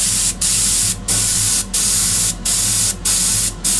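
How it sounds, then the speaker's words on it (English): An airbrush sprays paint onto Greek-style vases in loud hissing bursts, six steady blasts separated by short pauses. "Now this one is blasting paint all over the place"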